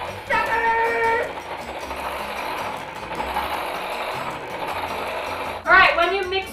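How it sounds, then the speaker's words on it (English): An electric mixer beats runny lemon poppyseed muffin batter, giving a close, loud, steady whir with a higher-pitched whine as it starts and again near the end. "Then you're going to mix it until everything is well combined."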